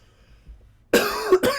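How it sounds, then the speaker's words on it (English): A single sharp cough bursts out after a quiet stretch, followed quickly by a second shorter cough, close and loud. "So sorry for my coughing."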